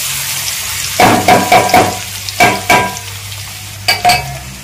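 Garlic fried in a pan on leftover heat after the stove is switched off, for a spicy amla chutney, gives a soft steady sizzle broken by several sharp scraping stirs, close up with no voices.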